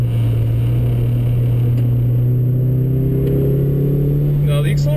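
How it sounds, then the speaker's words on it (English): A car engine holds a steady, loud drone close by, then its pitch slides down as the revs fall after the clutch is dropped during a gear change. "I'll just drop the clutch right about now, and you can see how much quicker the revs drop compared to before."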